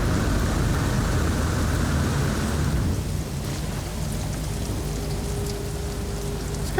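Rain in the video game No Man's Sky, a loud dense wash of falling rain with low rumbling beneath that thins out partway through to a lighter steady patter, with no voices.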